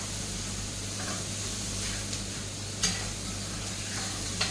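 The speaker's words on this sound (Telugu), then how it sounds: "ఇంకొద్దిసేపు ఫ్రై చేద్దాము" Jubeidi rice fries and is stirred in a hot, steaming pan, giving a steady close sizzle and hiss with a few faint scraping touches and no talking.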